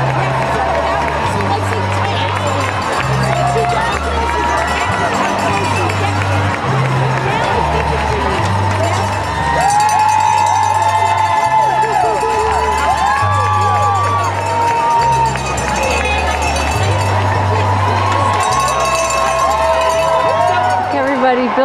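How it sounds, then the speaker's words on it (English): A marathon crowd lines First Avenue and cheers passing runners with sustained shouting, whoops and clanging cowbells. Loud music with a pulsing bass line plays underneath, and nearby voices talk over the din throughout. "You can hear all the cheering in the background."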